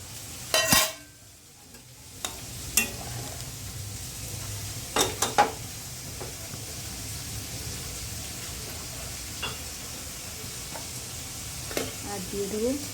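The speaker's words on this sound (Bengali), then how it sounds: "এবার আমি ভেজে রাখা বেগুনগুলো দিয়ে দেবো।" Fried eggplant is dropped into bubbling hilsa fish curry, giving a low simmering hiss with a few sharp clatters and scrapes of a utensil against the pot at close range.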